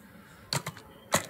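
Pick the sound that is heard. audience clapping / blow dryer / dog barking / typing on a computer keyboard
typing on a computer keyboard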